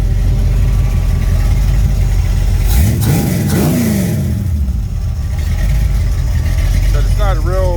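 Rebuilt Mopar 360 V8 with a mild cam idling in a Chrysler Cordoba, a steady low rumble that swells into a brief rev in the middle and settles back, with a voice talking over part of it.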